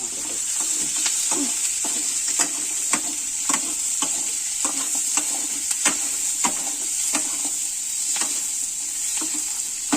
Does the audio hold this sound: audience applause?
no